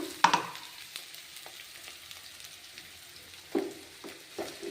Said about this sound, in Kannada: ಫ್ರೈ ಆಗಿ ಹಾಗೆ ಹಸಿಮೆಣಸಿಕಾಯನ್ನು ಹಾಕೋಣ